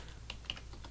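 Short burst of typing on a computer keyboard, a few crisp key clicks close and clear over a low steady hum, with no voices.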